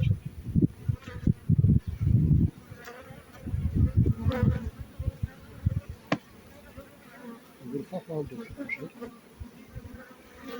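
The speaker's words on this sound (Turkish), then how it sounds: "Arılar nasıl çalışır?" Honeybees buzz around up close at a log hive full of honey in a continuous droning hum, with rustling and handling noises and some people talking in the background.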